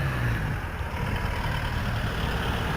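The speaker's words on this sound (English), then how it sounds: "Sound test on the 2 cars that have come past. One was a van" A van passing on a road, a steady low engine and tyre rumble lasting throughout at moderate level with no talk.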